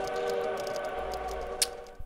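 A train sound from the puzzle video game Tick Tock: A Tale for Two plays as a steady harmonic whistle-like tone with a soft rhythmic ticking on top, ending with a brief bright chime and a few small clicks.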